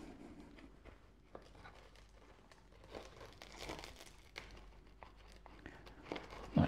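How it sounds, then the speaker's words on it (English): A pizza cutter rolls through a Peperami triple topped pizza, giving quiet, scattered crunching and crinkling crackles of crust and toppings over a soft, steady background. "trusty old pizza cutter out and let's get into this bad boy"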